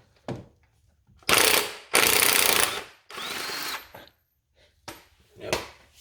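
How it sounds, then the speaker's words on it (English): An impact wrench removes the crank pulley on a Toyota 2AZ engine in several loud, close bursts of rattling hammering separated by short pauses. "I'm gonna use my rattle gun."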